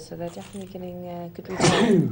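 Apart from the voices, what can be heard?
sneeze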